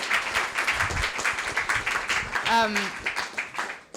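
Audience applause at a talk on Renaissance Florence, a dense, continuous patter of clapping heard under a speaking voice, with one short tonal squeak partway through.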